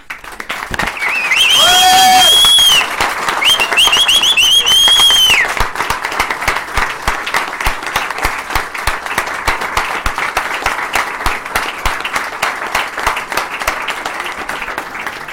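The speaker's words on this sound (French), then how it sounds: "merci de faire un tonnerre d'applaudissements pour le récent champion de France, Monsieur Steve Chenel." Loud, sustained crowd applause welcoming a French champion to the stage at a startup pitch event, with cheers and whistles rising early on, then steady dense clapping continuing throughout.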